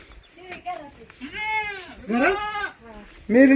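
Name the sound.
goat bleating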